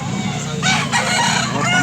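A yellow-legged rooster a little over a year old crows once, loud and close, with a rising call in the second half of a short burst; faint voices may sit beneath it.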